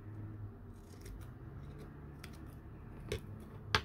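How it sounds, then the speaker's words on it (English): Scissors snip close by during crafting, a few quiet crisp cuts over soft handling noise, with a sharper snip near the end. "Okay, just gotta trim up a tiny bit more."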